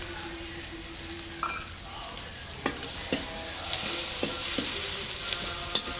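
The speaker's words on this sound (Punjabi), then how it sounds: "ਆਪਣੇ ਪਿਆਜ਼ ਭੁੱਜ ਗਏ ਆ ਆਪਾਂ ਇਹ ਟਮਾਟਰ ਇਹਦੇ ਵਿੱਚ ਪਾਉਂਦੇ ਆ ਕੜਾਈ 'ਚ" Onions and tomatoes fry in a kadai with a steady low sizzle, broken by occasional scraping stirs and clinks of a spoon against the pan. No one speaks.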